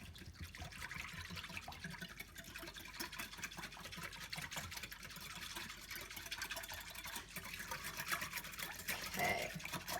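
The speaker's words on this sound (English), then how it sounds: "Now just whisk it together." A chili lime jerky marinade for deer meat is whisked in a bowl, giving fast, faint, irregular liquid clicking and sloshing that carries on steadily throughout.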